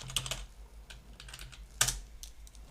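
Soft typing on a computer keyboard, with quiet irregular key clicks and one sharper tap, recorded close but faint with no voices.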